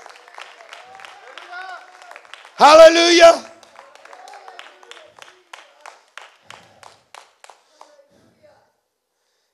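Church congregation clapping hands: a brief loud burst of applause, followed by sparse, steady claps fading away, with a voice calling out over them.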